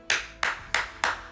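Four crisp hand claps at an even, steady pace, close and distinct, with no other sounds between them.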